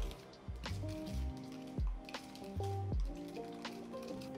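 Soy sauce and sambal garlic chili sauce being stirred into a dressing for Vietnamese green papaya salad, with soft wet squishing and clinking strokes repeating in a quiet, close rhythm.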